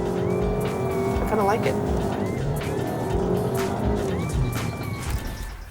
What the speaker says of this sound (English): All right, the turbo kicks in.